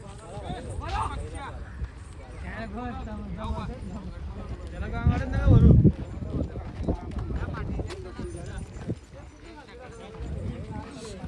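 Bullock cart race with an aggressive bull charging along the track: rhythmic hoof clatter and rumbling movement swell to a loud burst midway, set in a noisy outdoor crowd with steady excited talk over it.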